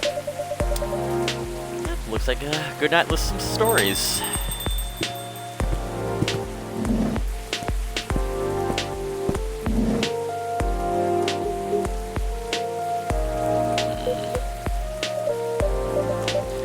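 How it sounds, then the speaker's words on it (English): Steady rain falling outside in the cozy café of the video game Coffee Talk, a soft continuous patter beneath background music and a voice speaking briefly. "the weather's about still raining outside here"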